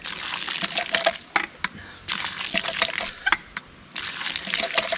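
Water from a restored hand-operated pitcher pump at a cabin, splashing and trickling in bursts with pauses between strokes, close and moderately loud, with sharp clicks and knocks of the pump mixed in.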